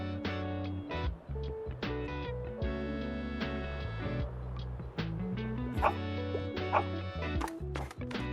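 A small dog barks and yips in the cozy bookshop video game Tiny Bookshop, a run of short, bright yaps and whimpers laid over a steady layer of game music.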